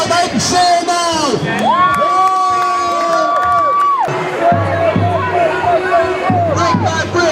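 A street demonstration crowd in Manchester cheers and shouts, loud sustained whoops and yells from many voices nearby, with a long held shout and chanting babble mixed in.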